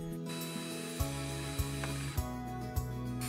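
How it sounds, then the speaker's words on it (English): A power screwdriver drives screws into an inside-mount shutter frame, a close whirring motor that stops and restarts in short bursts with sharp clicks between them. No one speaks. "tighten the bottom screws first,"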